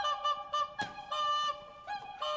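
A goose-like bird call is played as an audio reference, with a series of loud, nasal honks in quick bursts and no talking.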